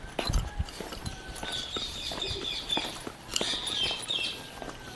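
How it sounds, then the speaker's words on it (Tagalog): Birds chirp faintly at a vacation farm, high tweets coming in small clusters over a soft outdoor background with occasional light thumps. "Madungog ninyo ang mga tingog ug huni sa mga langgam"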